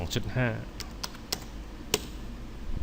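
Typing on a computer keyboard while modelling a student desk in SketchUp Pro 2014: a few sharp, separate key taps spread over a quiet moment, with a brief voice sound near the start.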